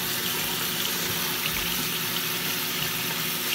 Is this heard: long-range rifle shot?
no